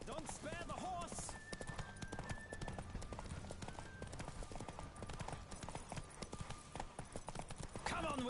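Horse hooves pound in a rapid, steady galloping rhythm throughout, loud and close, with game music tones and occasional voices over the clatter, as a rider pushes Roach through a race in The Witcher 3.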